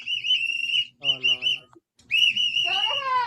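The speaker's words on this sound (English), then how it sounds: "They're in there blowing their fucking whistle." Shrill whistles blown by people, sounding in long sustained blasts with a brief choppy burst and a short gap, loud and close, with a possible voice briefly in the middle.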